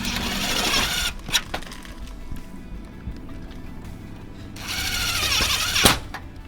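A power driver spins screws into a bent mounting tab on a solar roof in two loud, whirring bursts a few seconds apart, with handling clicks and knocks in between.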